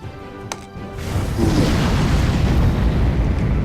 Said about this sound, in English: Isabella can cast a spell with Fireball